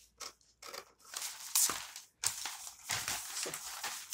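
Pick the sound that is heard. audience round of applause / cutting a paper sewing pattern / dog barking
cutting a paper sewing pattern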